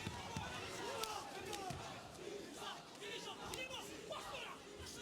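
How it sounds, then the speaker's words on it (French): A fight crowd roars and cheers on Muay Thai boxer Nizar Galas, a steady, dense wall of shouting and chanting with scattered yells and thuds, heard continuously at a distance. "On entend la foule qui pousse Nizar Galas à l'exploit."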